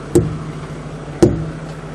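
Two sharp, dull thuds about a second apart, a hammer banging hard against a truck tire during a pre-trip inspection, each with a short ringing decay.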